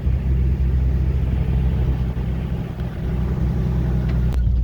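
A Jeep Cherokee XJ engine labours up a steep, muddy off-road incline, a steady close-up rumble holding for several seconds with no talk over it.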